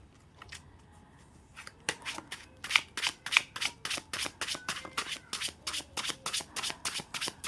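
Tarot cards being shuffled by hand, a quiet start followed by a fast, regular series of sharp riffling flicks, close and crisp, with no talking.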